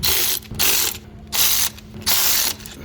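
A quarter-inch impact gun tightens EGR valve bolts on a Ford 6.7 diesel engine in three loud, close bursts of rapid rattling hammering, separated by brief pauses.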